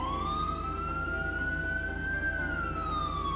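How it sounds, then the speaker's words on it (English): A GTA V video-game police siren wails in a single slow rising and falling tone, loud and steady over a low engine hum. "So let's hit siren tone,"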